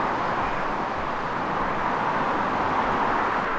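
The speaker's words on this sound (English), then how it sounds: "I'm not going to be able to hear a word that I'm saying right now because the traffic's so loud" Loud road traffic in Manchester gives a steady, dense roar that never lets up, with no breaks or distinct passing vehicles.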